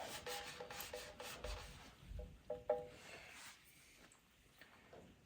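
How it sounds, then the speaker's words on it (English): A rag wipes excess oil from around a car's drain plug, giving faint, close rubbing and rasping strokes with a few soft knocks, quieter toward the end. "I'm gonna just wipe any excess oil around it off."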